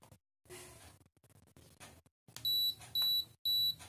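A DSLR camera's self-timer counting down in three loud, even, high-pitched beeps, close by, after some quieter handling noise and faint speech.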